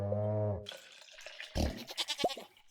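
A single drawn-out sheep bleat in a farming video game, followed by watery splashing and gurgling game sounds, close and clear.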